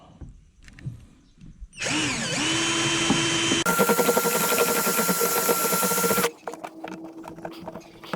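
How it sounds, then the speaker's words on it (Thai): A power drill bores into a plastic sprayer tank, running loud and close with a high whine for about four seconds, the pitch shifting partway through as the bit cuts, before stopping to quieter handling sounds. "หลังจากนั้นเราก็จะมาเจาะถังครับ"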